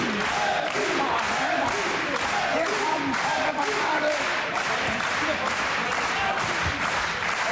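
Boxing arena crowd cheering and clapping: a dense, loud wash of applause and voices that holds steady throughout, with rhythmic pulses of clapping and a commentator talking over it.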